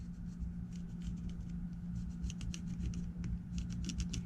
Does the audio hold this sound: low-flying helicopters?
no